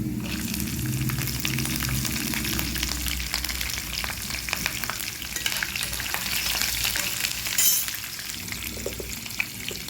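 Green chillies and other tempering spices fry in hot oil for gongura pulihora, a steady loud sizzle with stirring scrapes running through the whole stretch, no voices.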